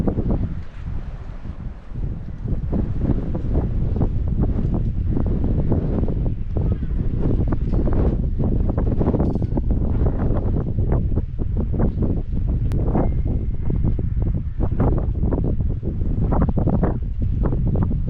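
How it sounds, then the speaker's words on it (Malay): Strong, gusty sea wind on a fishing jetty at Bagan Ajam roars and buffets the microphone continuously, with loud rumbling surges throughout. "Angin memang betul-betul kuat."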